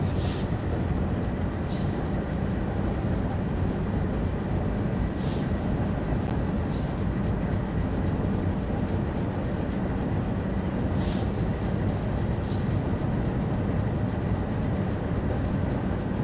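A video-game train rolls along with low braking, a constant loud rumble with faint periodic clicks from the rails, no voices.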